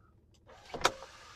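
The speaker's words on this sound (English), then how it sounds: "we can see if the sunroof opens" An electric sunroof motor on a Jeep Grand Cherokee WJ whirs as the roof panel opens, a brief close mechanical hum that swells and peaks after a quiet start.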